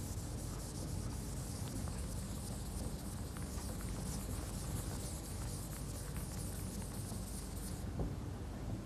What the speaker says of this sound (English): Let me rub out some of these other things.